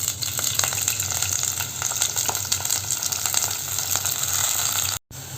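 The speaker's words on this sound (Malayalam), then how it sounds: "എന്നിട്ട് നന്നായിട്ട് ഇതൊന്ന് ഫ്രൈ ചെയ്തെടുക്കണം" Bitter gourd frying in hot coconut oil gives a steady, close sizzle that runs without a break, with faint stirring scrapes on top and a brief cutout near the end.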